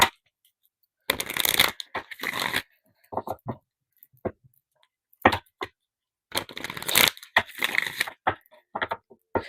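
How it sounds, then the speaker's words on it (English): Chakra oracle cards are shuffled by hand in several separate bursts of riffling and slapping, close and crisp, with short silent pauses between the bursts. "let me go ahead and get you some chakra cards"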